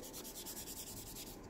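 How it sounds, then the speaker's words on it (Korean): Steady rhythmic scrubbing of 600-grit sponge sandpaper across the surface of a Kotobukiya 1/10 scale plastic model figure, quick repeated back-and-forth strokes, close and fairly soft, with no talking. "스펀지 사포 600번으로 표면을 그냥 매끄럽게 다듬어 준다고 생각하시면 돼요."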